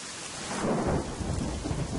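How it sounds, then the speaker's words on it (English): Steady rain with a low rumble of thunder swelling and fading, a dense, close wash of storm noise from a horror video game, with no voices. "It's raining outside and it's really raining over here too."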